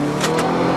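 A high-mileage, modified Mercedes 190E with a naturally aspirated 170-horsepower four-cylinder engine revs high, a steady loud engine drone heard from inside the car.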